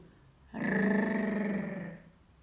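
Several children's voices imitate a dog's growl together, one sustained rough growl of about a second and a half in a quiet room.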